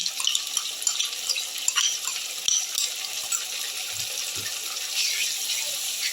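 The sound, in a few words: yogurt and spice batter sizzling in hot oil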